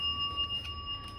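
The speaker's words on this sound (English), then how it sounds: "Let's ring the bell." A small bell rung to open a tarot reading sustains a clear, pure ringing tone with bright overtones. It decays slowly and quietly in a hushed room, with no talking.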